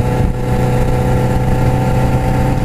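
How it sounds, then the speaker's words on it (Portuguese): A loud Suzuki GSX750F motorcycle engine with its dB killer removed drones steadily up close, a raw, unmuffled buzzing rumble that holds for a few seconds without talk. "a moto tá sem o DB Killer, eu tirei o DB Killer da moto"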